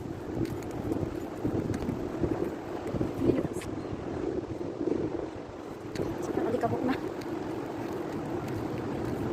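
Steady hot, dusty wind in Kuwait at night buffeting the microphone, rushing and rumbling in uneven gusts throughout, with faint scattered voices underneath.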